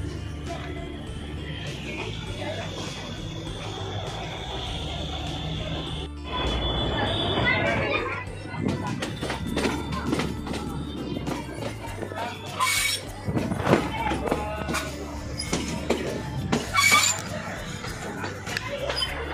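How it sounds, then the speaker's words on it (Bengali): A 110-year-old narrow-gauge toy train on the Bilimora to Waghai line rocks and rattles along its track, with squealing wheels, then louder irregular jolts and clanks while people talk over it. "বহুত ঝাঁকড়াঝাঁকড়ি করছে ট্রেন"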